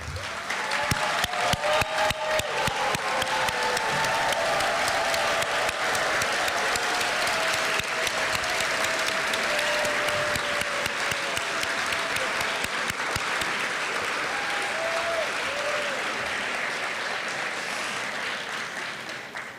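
Sustained applause from a large audience at a Princeton SPIA graduate hooding ceremony, steady dense clapping that carries on loud and unbroken for the full stretch, with faint voices mixed in.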